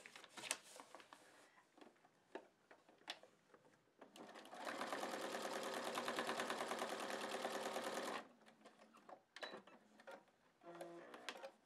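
Up close, a sewing machine runs a steady burst of stitching for several seconds through a fabric scrap for foundation paper piecing, set between quieter handling clicks and rustles of fabric and paper.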